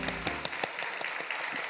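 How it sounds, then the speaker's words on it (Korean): A short, faint patter of scattered hand claps from a small church group, fading as it goes. "박수로 한번 격려해 주겠습니다."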